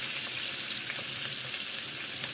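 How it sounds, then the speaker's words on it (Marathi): Onion and green chillies sautéing in a pan of oil for a Maharashtrian bhogichi bhaji, a steady close sizzle with faint watery crackle running continuously and no voices. "कांदा येथे जास्त वेळ परतायचा नाही"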